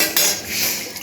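A spoon scraping and clinking against a pot while stirring aloo ghati, a short close metallic rasp with a couple of light knocks.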